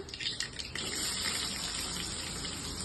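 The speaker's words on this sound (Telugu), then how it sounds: "ఓకే, ఇప్పుడు ఎర్రగడ్డలు వేస్తున్నా." Chopped onions dropped into hot oil with mustard seeds and cumin for a Telugu-style cauliflower fry, giving a steady, close, loud sizzle that hisses on without a break, a few crackling pops near the start.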